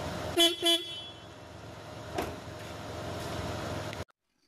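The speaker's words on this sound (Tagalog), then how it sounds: "tinesting ko muna kung gumagana ang busina natin" Two short, sharp beeps from a newly installed dual car horn being tested close by, followed by a faint click and a low vehicle hum before it cuts to silence.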